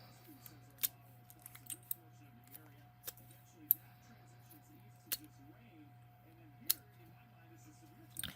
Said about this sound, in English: But I'm going to cut some of these into strips.